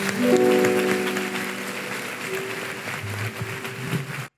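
A church congregation claps together in sustained applause for about four seconds, a steady wash of hand claps with a faint voice or held tone underneath before it cuts off abruptly.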